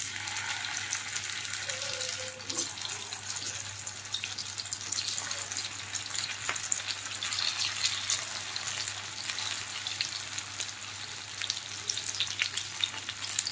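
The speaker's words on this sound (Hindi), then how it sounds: "ऑयल गरम हो गया है और अब इनको मैं शैलो फ्राई कर रही हूँ।" Corn and methi kebabs shallow frying in hot oil, a dense, unbroken sizzle with fine crackles that holds steady and close for the whole stretch.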